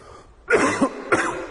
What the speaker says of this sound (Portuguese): Uma tosse danada.